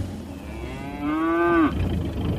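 A cow in the English fens lets out a single loud, drawn-out moo midway through, heard alone over a low rumbling background.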